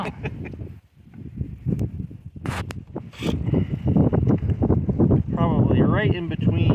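Wind buffets a microphone in low rumbling gusts, with muffled voices partly buried underneath.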